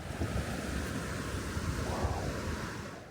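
Strong, steady rush of water from the Hantan River, heard from a sandy riverbank in a canyon, a continuous broadband roar with wind mixed in and no voices.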